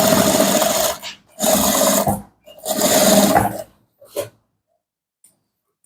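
A sewing machine top stitching a welt pocket on chinos runs in three loud, steady whirring bursts separated by short pauses, then gives a brief final stitch and falls quiet.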